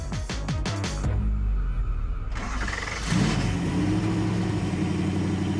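A classic Corvette or American muscle car engine of about 500 horsepower runs with a steady low rumble, a brief rev partway through, then settles back into an even idle.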